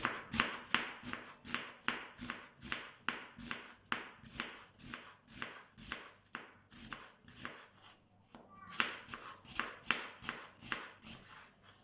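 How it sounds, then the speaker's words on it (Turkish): An onion is sliced with a knife on a cutting board, a long run of evenly paced, close knocks, quick and regular, with a brief pause before the rhythm resumes. "Bir tane soğanı piyazlık doğruyoruz."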